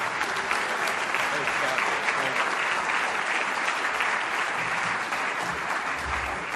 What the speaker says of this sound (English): And I think Jeff Speck deserves another round of applause for hitting all 3 of those points.